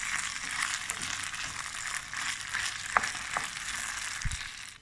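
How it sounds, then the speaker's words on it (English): Minced meat and macaroni fry in a pan with a steady broadband sizzle, broken by a few sharp scrapes and clicks as the mixture is stirred, ending with a short low thump. "Fry mince until it's golden brown. Then add macaroni to the mince."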